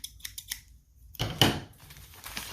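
Several quick metallic snips and clicks of scissors from a Wahl home barber kit being handled up close, followed by a louder rustling clatter as they are moved about.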